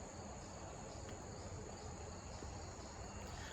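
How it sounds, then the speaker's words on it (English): Crickets chirp outdoors in the evening as a steady, continuous high trill, moderately faint and unbroken, with no voices over it. "You get to hear the crickets"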